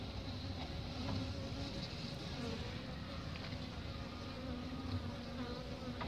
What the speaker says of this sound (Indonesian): ini adalah ini ya lebahnya, dimana ini lebah yang ratunya mati ya